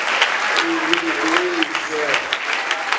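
A church congregation claps in praise to the Lord, steady rhythmic applause filling the room while a voice speaks and sings over it.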